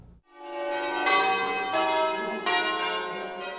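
Church bells of a basilica sanctuary ring out loudly and resonantly, several strikes overlapping in a rich, sustained peal with no voices.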